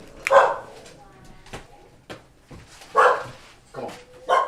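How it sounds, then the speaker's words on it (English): A pet dog whimpering and yipping while trying to get into a room, several short high whines and yelps in bursts, close by, with a person talking intermittently. "My pup's trying to break into the room."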